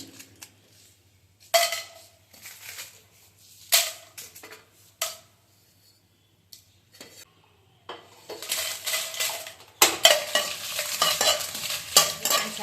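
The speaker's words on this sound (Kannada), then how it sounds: "ಫಸ್ಟು ನಾನು ಮೆಣಸಿನ್ಕಾಯಿ ಉರ್ಕೊಳ್ತಾ ಇದ್ದೀನಿ" Dried Byadagi and Guntur chillies roasting in a dry pan, heard as scattered scraping stirs and rattles of a spatula against the metal, with quiet gaps between bursts and a busier stretch of stirring toward the end.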